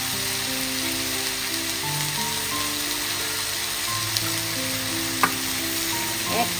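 Chopped tomato and turmeric powder sizzling in a frying pan, a loud, steady crackle and hiss of frying close by, with a few faint clicks of stirring and no talk.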